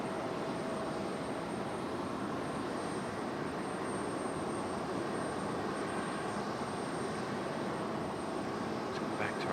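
A Breeze Airways airliner arrives at Raleigh Durham International airport, its engines a steady, broad roar heard from some distance, unbroken and without talk.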